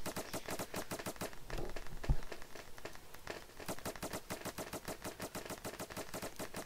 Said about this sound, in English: You shot him a million times, my dude.